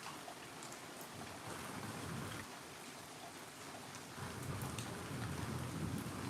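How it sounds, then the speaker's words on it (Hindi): Steady rain pours down in a dense, continuous hiss, with a deeper low rumble swelling in the final seconds as thunder rolls beneath the downpour. "बारिश बरस रही।"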